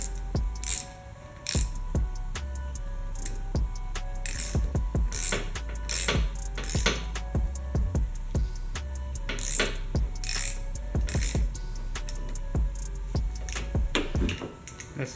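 A new poly bushing being pressed into a shock eye with a socket, heard as repeated creaking, ratcheting squeaks and mechanical clicks in irregular bursts, fairly close and with no voices.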